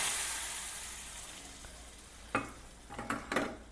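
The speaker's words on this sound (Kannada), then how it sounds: "ಇದನ್ನು ಸಾರಿಗೆ ಒಗ್ಗರಣೆ ಹಾಕಬೇಕು." A hot tempering of asafoetida and curry leaves is poured into tomato toor dal rasam, giving a soft hiss that settles, then a few short sizzling bursts near the end, fairly faint and with no talk.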